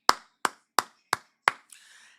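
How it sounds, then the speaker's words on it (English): Five sharp, evenly spaced single hand claps ring out close and loud in an otherwise quiet room, followed by a brief soft rustle. "Let's give her another round of applause."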